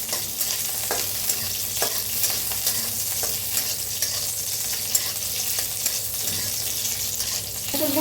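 Green chillies frying in a little oil in a pan give a continuous close sizzle, with regular scraping stirs and occasional sharper clicks of a spatula against the pan.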